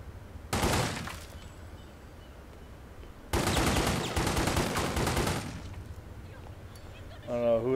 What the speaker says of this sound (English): I don't know who they're shooting at.